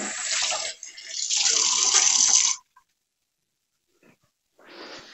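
Tap water runs hard into a kitchen sink as a sponge is rinsed, a loud steady splashing for about two seconds, then silence, then the flow starts again more softly.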